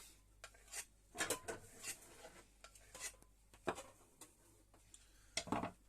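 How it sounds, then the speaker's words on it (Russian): A Yakut knife blade drawn across leather to strop it, heard as a series of quiet, uneven scraping strokes with light metallic rasps and brief pauses. "Можно об кожу ножом."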